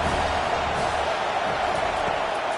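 Steady stadium crowd roar in an NCAA college football video game, a broad constant wash of noise filling the whole moment, with faint thumps beneath and no clear break.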